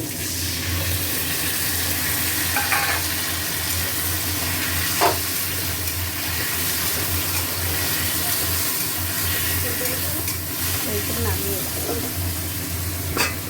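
Mustard paste fries in a pan with a soft, steady sizzle and hiss over a low kitchen hum, broken by a few light clinks and scrapes, while a voice talks faintly.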